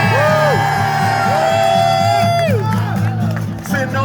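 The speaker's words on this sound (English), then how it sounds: "It's appropriate to cheer loudly now." Crowd at a free outdoor concert in Sacramento for the United Farm Workers cheering loudly, with whoops and shouts that swell over amplified music and a sustained guitar line.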